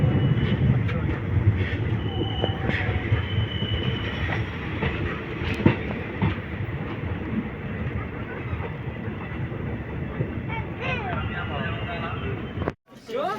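A passenger train in Kashmir runs between Pampore and Anantnag with a steady rumble and rhythmic clickety-clack of wheels on rail joints, heard from inside a carriage, with muffled voices in the background.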